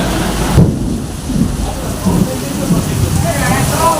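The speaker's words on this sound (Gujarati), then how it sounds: "ભાઈ જોરદાર વરસાદ ને જોરદાર વીજળી" Heavy rain hisses constantly through a violent thunderstorm near a factory, broken by several low thunder rumbles and thuds. A faint voice may be present in the background.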